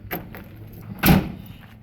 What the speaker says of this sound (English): Wait till I close all the doors and we'll walk around it.